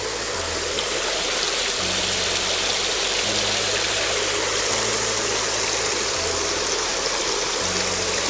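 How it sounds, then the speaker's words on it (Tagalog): Water flowing steadily at a waterfront park, a loud, continuous rushing wash close by, with a faint low engine hum underneath throughout. "Oh, may tubig dito."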